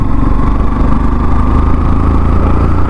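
A 2024 Yamaha FZS V4 motorcycle engine runs loud and close, its dense mid-range exhaust rumble sustained steadily throughout.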